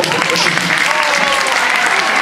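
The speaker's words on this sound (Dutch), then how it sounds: "Applaus voor het filmpje." A crowd at a pony park morning opening claps for a short film, steady dense applause close by with some voices mixed in.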